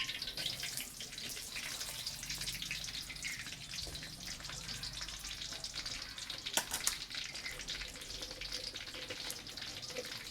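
Dried red chillies frying in a pan of hot oil, a steady close sizzle and crackle with faint stirring clatter and a couple of sharper pops partway through.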